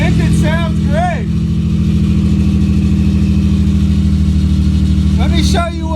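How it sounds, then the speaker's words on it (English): A Nissan 350Z engine runs steadily with a loud exhaust, a continuous deep drone throughout, while a voice talks over it near the start and again briefly near the end. "Exhaust is really loud, but you can't hear any knocking, which is great. The engine sounds great."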